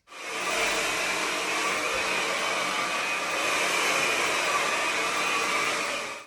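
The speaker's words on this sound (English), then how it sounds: "using a round brush and the hairdryer to smooth out each section" A hair dryer blows continuously with a loud, steady airy whoosh while hair is smoothed with a round brush, starting and stopping cleanly, close up with no talking.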